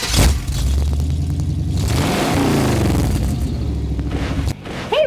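A street rod at a Marysville car cruise fires up with a sharp start, then settles into a loud, rumbling idle with a rising rev before cutting off near the end, close and unaccompanied by talk.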